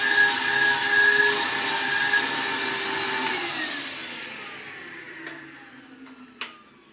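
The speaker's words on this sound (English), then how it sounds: "the ability to pick debris from the surface of carpet is very well because of the strong suction with the 5-amp motor" A vintage stick vacuum with a 5-amp motor runs with a steady whining hum, its pitch sliding down as it powers off and winds down, ending with a small click.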